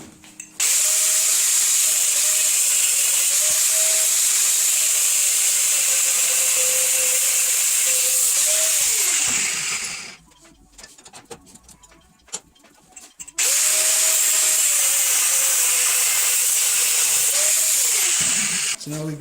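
A power saw cuts metal stock into gussets for a 1983 Honda ATC 70 foot peg, a loud steady whining hiss held for about ten seconds, a pause with clatter, then a second long cut.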